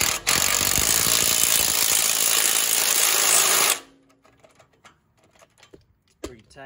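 A ratcheting wrench tightening a nut on a Ford Expedition strut during a strut conversion, with a loud rapid clicking ratchet for a few seconds, then a few faint metallic taps and knocks.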